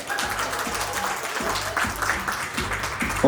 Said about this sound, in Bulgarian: Аплодисмент за гласа на България!